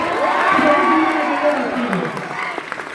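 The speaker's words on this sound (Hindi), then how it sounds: "एक बार जोरदार तालियां हो जाए।" Loud crowd applause at a school farewell program's standup comedy show, mixed with cheering and shouting voices, sustained throughout and tapering slightly toward the end.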